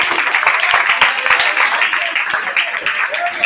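A school quiz audience claps together in a sustained, loud burst of applause with sharp overlapping hand claps, while voices murmur underneath.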